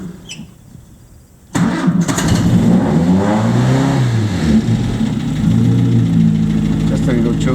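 A 1951 MG TD engine cold-starts on choke: a short cranking burst, then it catches and settles into a steady, loud idle that swells slightly near the end, with someone talking under the running engine.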